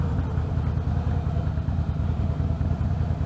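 A Harley-Davidson Fat Boy 1800cc motorcycle engine rumbles steadily at idle, a deep continuous throb close by with no talking.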